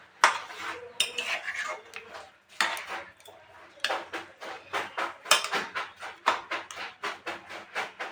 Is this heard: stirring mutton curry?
yes